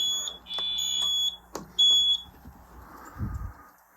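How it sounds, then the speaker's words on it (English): A fire alarm system sounds during a test, giving long electronic tones in bursts with brief gaps, a couple of sharp clicks between them, and a low thump near the end. "It activates the alarm."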